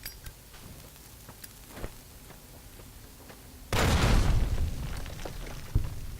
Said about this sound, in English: Damn, that was a huge explosion.